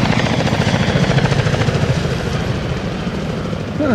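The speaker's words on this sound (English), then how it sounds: "There's a helicopter flying right over the top of the station, Bob" A helicopter flying over a radio station, its rotor chop thrumming loudly and steadily close overhead, filling the whole clip with a dense, pulsing roar.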